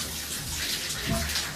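Shower water running in a steady, close, broadband rush that fills the whole stretch without pause, with no clear voices over it.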